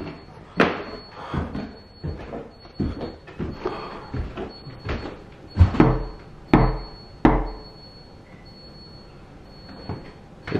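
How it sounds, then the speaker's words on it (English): A series of sharp knocks on a door, irregular and fairly loud, some heavy thuds spaced a second or two apart, then quiet. "It's legit knocking."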